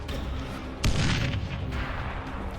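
Grenade explosion in the zombie video game Dead Island Riptide, a single loud blast with a sharp onset that rolls into a rumbling tail over dense background game noise.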